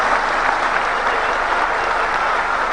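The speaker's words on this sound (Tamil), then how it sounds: "ஜெயலலிதா பதவி ஏற்பு ரகசிய காப்பு பிரமாணம் முடிந்தவுடன் எல்லோரும் கைத்தட்டி ஆரவாரிக்கிறார்கள்" Dense, sustained applause and cheering from an audience after Jayalalithaa's swearing-in ceremony as Tamil Nadu chief minister, a loud, even wash of many hands clapping without pause.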